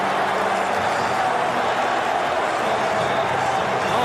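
A sellout home crowd at the Swansea.com Stadium roars steadily after a Swansea goal, a dense, sustained wash of cheering and clapping with a commentator talking over it.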